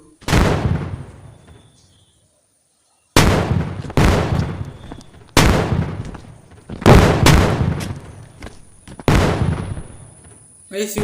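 Loud, sharp gunshots in the game Indian Bike Driving 3D, several single blasts spaced irregularly, each with a booming decay, after a brief quiet gap.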